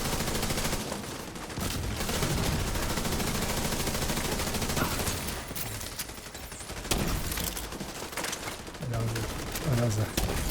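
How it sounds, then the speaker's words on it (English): Airburst weapon fire in a shooter video game, a dense rattling volley of shots going on for several seconds, with a brief lull and further bursts near the end, mixed with game noise. "Firing airburst!"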